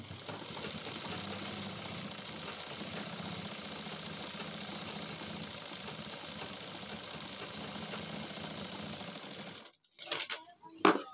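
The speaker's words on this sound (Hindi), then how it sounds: "एक सिलाई लगा दी, उसके बाद हमें यहाँ पर दूसरी सिलाई लगाना है इसके ऊपर पैर की।" A sewing machine stitches a frill sleeve with a fast, even mechanical whir held for about nine seconds. It then stops abruptly, leaving a few quiet handling knocks.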